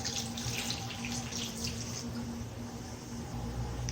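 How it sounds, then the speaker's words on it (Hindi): Water pours steadily from a glass into a pot holding half a kilo of apricots and sugar, a continuous splashing stream at close range. "एक गिलास पानी।"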